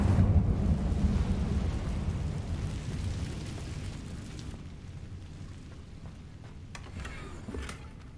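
Incendio fire spell cast in Hogwarts Legacy, a loud roaring burst of flame that rumbles low and fades into a crackling hiss, with a faint magical shimmer near the end.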